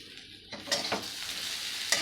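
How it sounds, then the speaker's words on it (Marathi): Pieces of fenugreek vadi frying in a pan and being stirred, giving a steady sizzle broken by a few sharp scraping strokes of the spoon, close and alone with no talking. "वड्या आपण पाच ते दहा मिनटं छान परतून घेतले आहे"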